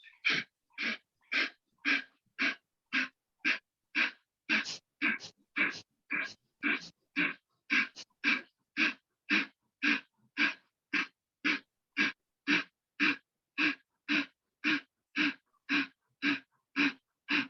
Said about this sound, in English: look up and do Kapalbhati for 40 times